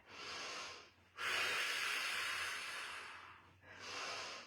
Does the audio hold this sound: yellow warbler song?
no